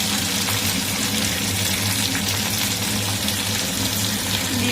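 Washing water from ground mustard and poppy seed paste is poured into a pan for neem shukto, a continuous close splashing stream with no voices.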